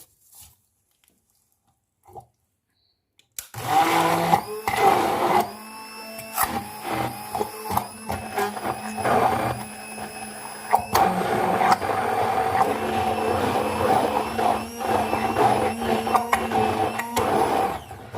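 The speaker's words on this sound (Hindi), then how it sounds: "और इसको ब्लेंडर से ब्लेंड कर लेंगे।" A loud, steady electric whirring starts after a few seconds of near silence and runs continuously with slight pitch shifts, like a blender churning white shawarma sauce.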